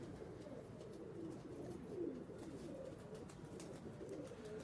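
Pigeons cooing in soft, low, continuous murmurs, a steady close chorus of rolling coos with no talk over it.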